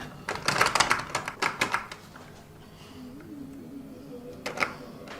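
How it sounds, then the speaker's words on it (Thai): A door handle is twisted and rattled in a few quick clicking, clattering bursts, then goes quiet before one more short rattle; faint and indoors. "ใครเนี่ยมาบิดประตูแบบนี้ไม่เรียกด้วย"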